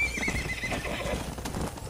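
Horse galloping and neighing in the Western video game Red Dead Redemption: a close whinny rides over steady hoof clip-clops, loud and continuous with no talk.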